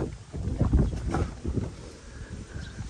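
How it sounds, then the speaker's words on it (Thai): Wind gusting outdoors, buffeting the microphone in low rumbling bursts that swell and fade over a few seconds, with no voices. "ได้ยินเสียงลมอยู่เด้พี่น้องเนาะลมพัดเป็นสิ่งที่ดีอยู่เนาะ"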